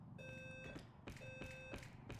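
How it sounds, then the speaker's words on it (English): A faint apartment fire alarm gives two long, steady electronic beeps in a regular rhythm, with a short start of a third. "That is my fire alarm."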